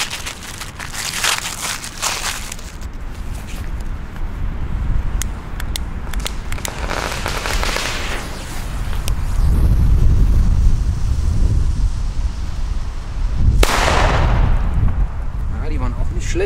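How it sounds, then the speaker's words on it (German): Loud firecracker blasts boom out over heavy wind rumble, with one sharp crack late on. A voice speaks at points. "Jetzt die D-Böller."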